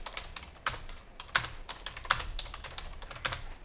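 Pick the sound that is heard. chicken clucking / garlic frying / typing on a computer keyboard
typing on a computer keyboard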